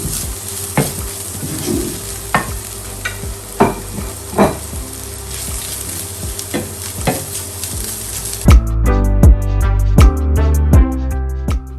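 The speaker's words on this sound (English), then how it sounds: "it's time to add my green beans, guys. Mix it up really well." Green beans sizzle steadily in a hot pan for a Thai-style rice bowl, with sharp scrapes and clinks as they are stirred, before music takes over for the final few seconds.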